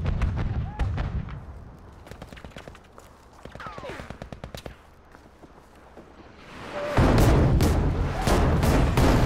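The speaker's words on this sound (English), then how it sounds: "They're like bombing their own buildings" Bombing in a video game: a series of sharp cracking blasts and rapid bursts of gunfire-like pops, then a loud, dense rumbling barrage of explosions closing the passage, near and intense.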